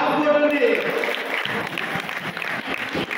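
An audience claps at a New Year's Eve prize ceremony, a continuous patter of many hands throughout, with voices heard over it.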